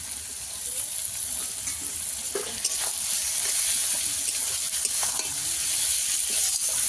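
Dried red chili paste, tomato and green chili sautéing for a country chicken curry, a steady broadband sizzle with scraping stirs and brief clinks throughout, close and even, no talk.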